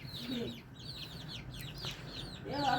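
A rooster in a Nepali village clucks in short, fairly faint bursts at the start and end, with other chicken calls and outdoor background around it.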